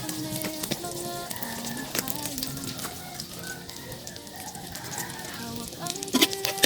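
Ingredients sizzle and fry in a pan for a mung bean stew, a continuous crackling hiss with scattered clicks of stirring, fairly close, while a voice talks over it.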